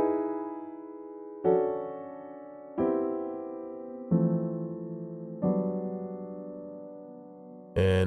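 Major seventh chords in third inversion, apparently on a piano, struck five times at a slow even pace with the seventh in the bass, each ringing and fading, followed by a brief sharp noise at the end.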